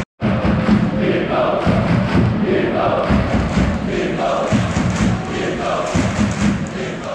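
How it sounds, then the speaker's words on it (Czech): Pardubice fan section chanting in unison at the Hradec–Pardubice hockey derby, a loud massed crowd with rhythmic surging shouts and thumps that continue throughout. "Jak se ti líbilo fandění pardubáckého kotle?"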